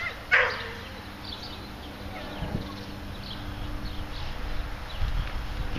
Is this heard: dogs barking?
yes